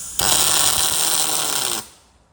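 A tack weld on a steel console frame crackles loud and close in one sustained burst of just over a second and a half, then cuts off into quiet room noise.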